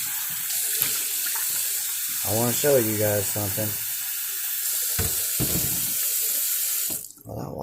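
Cold tap water runs steadily into a kitchen sink, a constant broadband rush close by, with a person talking over it partway through.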